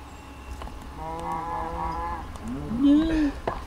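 Cattle in a farming video game (Magiculture 2) let out a drawn-out moo with a low, bending tone, followed by a louder, closer bellow toward the end, over steady background game noise.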